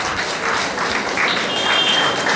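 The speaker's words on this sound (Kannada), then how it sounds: "ಒಂದು ಚಪ್ಪಾಳೆ ಬರಲಿ" An audience at a Kannada book release ceremony applauds steadily for about two and a half seconds. The clapping is dense and sustained, forming an even wash of many hands with no voices over it.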